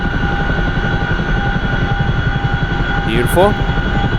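An MH-47 Chinook helicopter in flight in the DCS simulator, with a loud steady rotor throb and engine drone throughout and a voice speaking briefly near the end.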